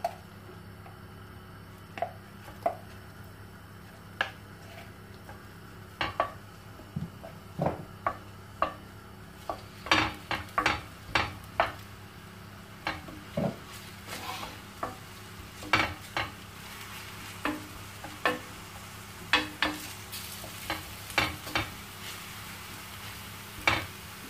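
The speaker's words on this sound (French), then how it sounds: "J'ajoute un oignon émincé." Sliced onion sizzling in olive oil in a tagine, stirred with a utensil that gives scattered clicks and scrapes over a steady low frying hiss.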